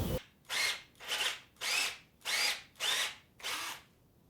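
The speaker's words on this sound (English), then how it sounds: "This drill bit is a 1/2-inch drill bit." A power drill with a 1/2-inch bit whirs in seven short, even bursts with brief pauses between, close and fairly loud, no voices.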